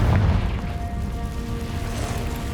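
A Confringo fire spell explodes in the Hogwarts Legacy video game, a short heavy boom that rolls into a low rumbling tail, fairly loud with no voices over it.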